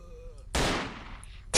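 A heavy-recoil gun fires in the video game S.T.A.L.K.E.R. Call of Pripyat, one loud close blast with a decaying tail followed by a second sharp shot, over quiet game ambience.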